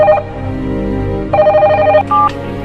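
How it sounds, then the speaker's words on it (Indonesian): A mobile phone rings with a short electronic ringtone melody that repeats, sounding close and fairly loud over a low background hum. "terdengar HP-nya berbunyi."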